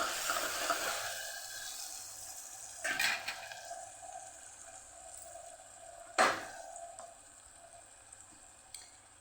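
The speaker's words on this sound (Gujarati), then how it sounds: "બધું સરસ મિક્સ કરીને સાતળી લઈશું" Spiced white peas and potatoes with tomato sauté in a pan, giving a steady soft sizzle and hiss with a couple of louder scraping stirs, close by and without speech.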